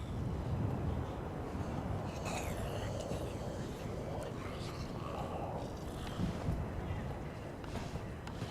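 Outdoor wind roars steadily into the microphone as a constant broadband rumble and gusty hiss, loud and close, with faint voices mixed underneath.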